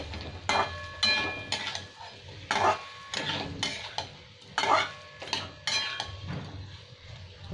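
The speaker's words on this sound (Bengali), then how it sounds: "একটু আরও 2 মিনিট ভালো করে কষে নেব টমেটোর সাথে" Repeated scraping strokes of a spatula stirring potatoes and tomatoes in a pan for Nepali-style aloo dum, roughly one every second, over a soft sizzle.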